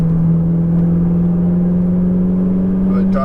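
Ferrari 488 GTB engine on a race track, a loud, steady droning engine tone held throughout at close range, changing only slightly near the end.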